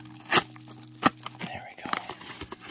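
Cardboard mail package being cut open along the top, sharp crunching slices and tearing scrapes in a few uneven strokes, close and clear against a quiet room with low electrical hum.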